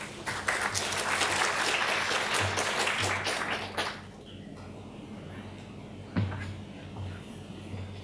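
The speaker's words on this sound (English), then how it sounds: "Let's give Professor Phua once again a big round of applause" Conference audience applauding a professor chairing a physics session: a few seconds of full, even clapping that tapers off sharply, leaving quiet room tone with a single thump.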